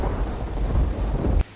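Loud thunder from a storm rolls as a deep, heavy rumble close by. It holds steady for more than a second, then cuts off sharply.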